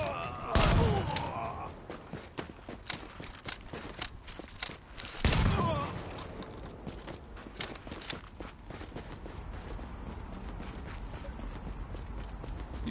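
Gunfire in The Division, two loud sharp bursts several seconds apart, followed by quieter rapid clicking and tapping game sounds that carry on steadily to the end.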